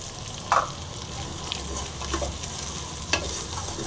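Sambar vegetables fry in a pan with steady sizzling and a handful of sharp stirring scrapes and clinks spaced a second or so apart, close and without talk.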